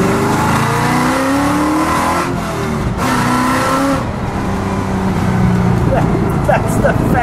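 A black 1948 Ford Woodie wagon custom restomod accelerating, its engine note climbing and revving steadily for several seconds with a continuous loud roar, speech present faintly under the engine noise.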